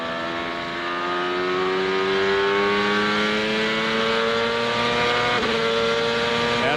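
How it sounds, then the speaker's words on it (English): A 1999 CART race car screams through a qualifying lap at Chicago Speedway, its loud high-revving engine holding a steady, rising whine throughout, close and continuous with no talk over it. "now Michael Andretti is qualifying on the Chicago Speedway"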